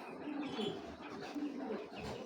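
Soft cooing from a red checker female racing pigeon, two low rolling coos close by with faint chirps in a quiet room.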